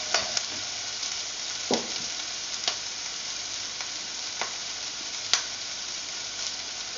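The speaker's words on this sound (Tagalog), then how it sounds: "Give it a stir." Onion and dried shrimp stir-frying in a pan for Filipino stir-fried okra, a steady close sizzle broken by a few sharp spatula scrapes and clicks, with no talking.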